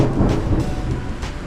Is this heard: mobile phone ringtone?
no